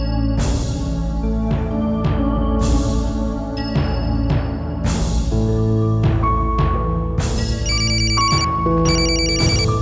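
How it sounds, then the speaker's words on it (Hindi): A phone ringtone plays loudly and continuously, a repeating electronic melody with bright chimes cycling every couple of seconds. "फोन बज रहा है भाई।"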